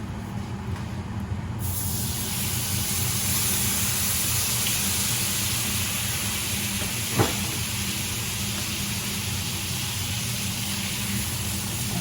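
Red wine poured into a hot steak pan to deglaze it hits with a sudden loud burst of steady hissing sizzle that carries on evenly, close up, with no voices.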